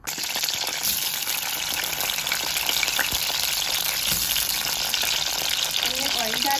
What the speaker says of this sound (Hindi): और अब हम बैगन डाल रहे हैं इसमें, इनको फ्राई करेंगे